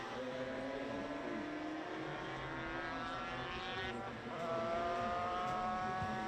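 Racing motorcycles, a Maxim 350 and a Honda RS 250, scream past with high revving engines rising and falling through the gears, loud and sustained, at a road race circuit.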